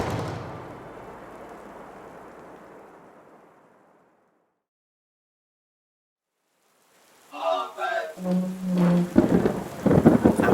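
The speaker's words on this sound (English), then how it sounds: "The rain was still pouring, and with no sign of letting up as time passed." Heavy rain pours steadily with a rumble, fades away to silence, and then gives way to dense, loud rushing sound with bursts that suggest the storm's thunder returning.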